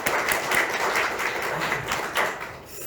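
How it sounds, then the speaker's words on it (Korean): A church congregation applauds at a Sunday Christmas Eve service, a moderate wash of many hands clapping steadily for a few seconds before tapering off slightly. "박수 한번."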